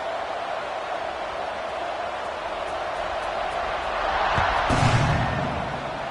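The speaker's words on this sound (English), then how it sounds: "this crowd is buzzing after that last score" A stadium crowd in the NCAA 26 college football video game keeps up a steady, broad murmur that swells louder for a moment near the end, with no one talking over it.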